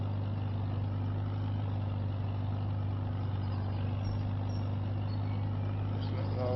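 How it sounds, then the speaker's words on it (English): A little old farm tractor from 1949 runs steadily while cultivating on a misty early morning, giving a close, constant low engine drone with no break from start to finish. "This little old tractor going to be working on this job for a while yet."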